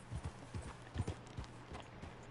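Horse hooves clip-clop at a steady trot as Arthur rides off in Red Dead Redemption II, soft and rhythmic at a moderate distance, without speech.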